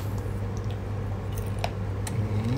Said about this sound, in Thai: ฟังเสียงกรุบ